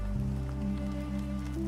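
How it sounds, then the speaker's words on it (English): Gentle rain patters against window glass, a soft steady sprinkle of drops over a low sustained ambient drone, calm and even throughout. "the first gentle patter of rain began against the glass"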